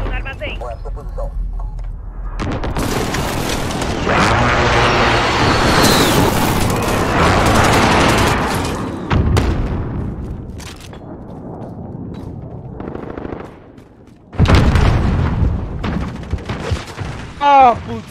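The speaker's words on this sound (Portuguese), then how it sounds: "Ataque aéreo de precisão no inimigo no armazém." Precision airstrike explosions in a multiplayer war video game, with a heavy barrage of booms and gunfire that rumbles for several seconds, then a second loud burst near the end, all under excited talk.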